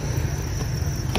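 A mass of farm-raised crickets gives a constant shrill, high-pitched chirring that holds steady without pause, close and unbroken across the short stretch.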